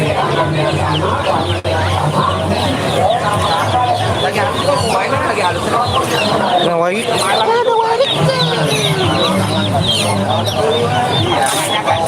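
Ayam ketek bantam chickens cluck and crow at a busy Banjarmasin pet and fish market, repeated squawks and clucks close by, mixed with steady crowd babble and people talking.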